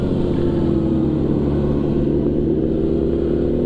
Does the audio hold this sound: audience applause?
no